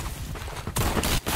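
Rapid gunfire in the online shooter game Phantom Forces, loud continuous bursts of automatic shots with brief gaps between volleys, heard up close.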